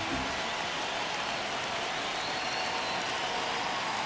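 Baseball stadium crowd at Yankee Stadium in the Bronx during the ninth inning of a one-run Angels vs Yankees game, a steady dense roar of cheering and noise with no breaks.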